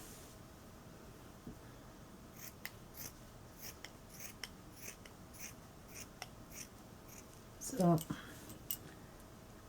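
Scissors snip through fleece fabric by hand as a hat is cut out, giving a string of quiet, regular crisp snips and one louder rustling cut near the end, with brief speech in the background.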